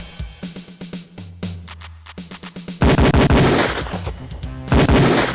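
Beretta pistol shots at a police firing range in the 1993 Sierra game Police Quest: Open Season, a series of sharp, loud reports in a quick irregular volley that turns into a heavier, denser burst of gunfire near the end.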